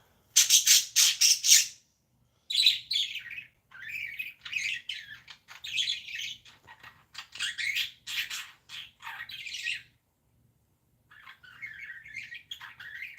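Birds singing on a North Georgia morning, bursts of bright chirps and squawky calls coming in repeated phrases with short gaps, fairly close and clear over a faint low background hum.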